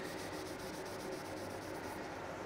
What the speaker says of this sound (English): I just want to show you the sanding of this though